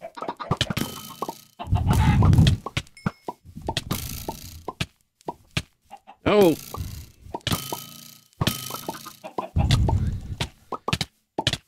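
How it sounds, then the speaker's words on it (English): Blocky Minecraft chickens cluck and plop repeatedly during a hectic UHC survival match, short bursts scattered through the clip while a player talks over them. "Okay, these chickens are gonna kill me."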